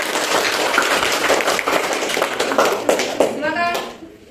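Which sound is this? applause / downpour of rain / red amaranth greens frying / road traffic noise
applause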